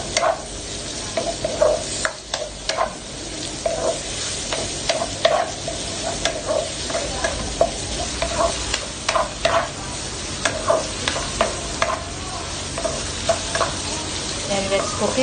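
Onion, chili and tomato sizzle steadily in a pan while a utensil scrapes and stirs in frequent irregular taps, close and moderately loud with no talking.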